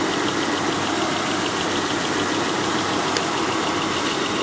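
The engine of a 1991 Toyota Crown Royal Saloon G UZS131 idles smoothly and steadily under a constant broadband whir, recorded close and loud without a break.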